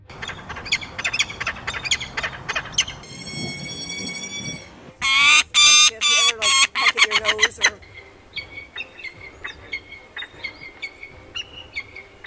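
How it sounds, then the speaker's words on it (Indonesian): A peregrine falcon gives rapid, harsh repeated cries in bursts, some shrill and piercing, others sharper and clipped, loud and close with brief pauses between series. "Dengarkan variasi suara Peregrine Falcon berikut ini"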